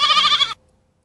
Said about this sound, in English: What is that? A sheep.